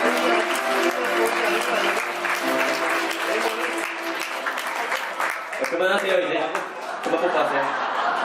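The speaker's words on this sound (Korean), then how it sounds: "끝까지 보시다가 신랑 신부 뽀뽀할 때 큰 박수로 축하해 주시기 바랍니다" Wedding guests break into loud applause for the bride and groom's kiss, the sustained clapping mixed with chatter, laughter and voices throughout the hall.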